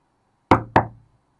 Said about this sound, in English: he heard a tap on his door.